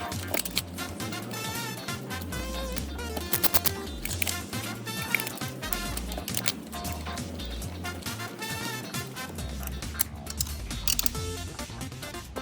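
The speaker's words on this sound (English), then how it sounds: "turn your socket wrench clockwise to install it." A socket wrench ratchets in rapid, continuous clicking as a new spark plug is threaded into a Toyota Yaris cylinder head, close and steady throughout with no talk.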